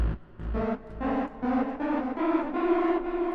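Synthesizer notes with fast LFO modulation giving a quick, fluttering vibrato, a short run of stepped tones rising in pitch and played one after another, moderately loud and alone.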